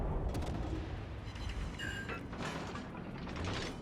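Cleveland cruiser guns firing during a naval battle in World of Warships Legends: a steady, fairly quiet mechanical clatter with repeated muffled firing bursts and a few brief tonal whines, heard alone without speech.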